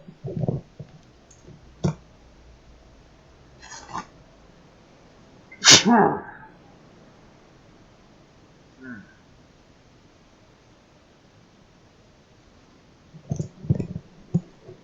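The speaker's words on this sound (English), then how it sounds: "Hang on, I'm gonna sneeze." A single sharp sneeze bursts out close to the mic amid quiet room noise, with a few scattered clicks and brief speech near the end.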